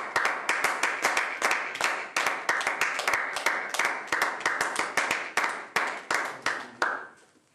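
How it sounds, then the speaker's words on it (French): Rhythmic, steady clapping from a church congregation, many hands striking together in a regular beat for several seconds, fairly close and clear before fading out at the end. "Acclamons Dieu au lieu de le regarder."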